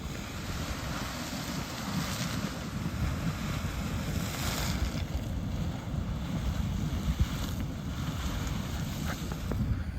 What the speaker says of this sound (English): this here is Grotto Geyser, just billowing up a storm of smoking water